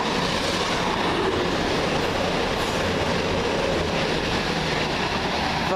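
A delayed Class 222 diesel multiple unit, 222118, runs from Plymouth to Edinburgh Waverley and passes close by with a steady, loud rumble and rhythmic wheel clatter that holds throughout with no talk.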